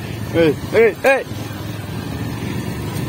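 A motorcycle ridden along a forest road beside the Kali Gandaki river gives a steady low engine drone throughout, with a few short bursts of voice over it.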